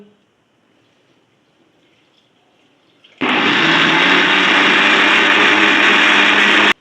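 Water pours suddenly and loudly into a vessel of homemade pomegranate juice seasoned with black salt, a dense steady splashing rush that begins after a quiet pause and continues to the end.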